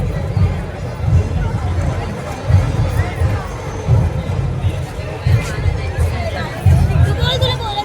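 Dense crowd hubbub at a Gudi Padwa shobhayatra procession in Dombivli, with overlapping voices and chatter and a pulsing low rumble, steady and close throughout.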